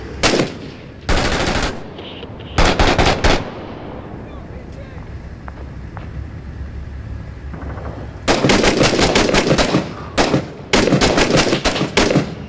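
Machine gun fire in the urban combat shooter Six Days in Fallujah, loud repeated bursts that start and stop with quieter gaps between them, while a player talks over the fighting.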